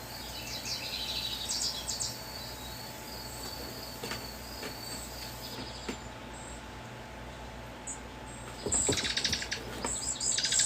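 A pet bird chirps indoors in short bright bursts near the start and again near the end, over a steady low household hum.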